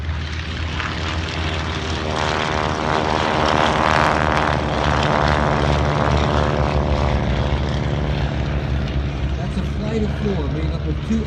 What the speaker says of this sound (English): now full throttles, and we'll listen and watch as formation takeoff.